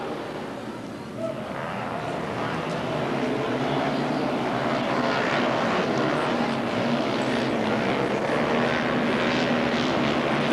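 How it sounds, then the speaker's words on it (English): Eight identical four-stroke air-cooled Honda 200X machines race together, their engines forming a steady, dense, continuous roar that stays loud and even throughout. "There are 8 4-stroke air-cooled Honda 200Xs in this race."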